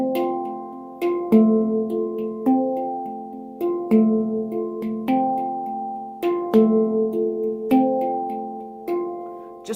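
Handpan notes ring out in a steady repeating pattern, each phrase opening with a louder accented strike and followed by softer notes, sustained metallic tones overlapping clearly with no talking.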